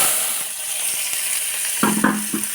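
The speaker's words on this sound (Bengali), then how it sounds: "এখন আমি তেলে পেঁয়াজটা দিয়ে দিলাম" Onion slices frying in hot oil for a small-fish do-piyaza, a steady close sizzle with a few brief stirring clatters near the end.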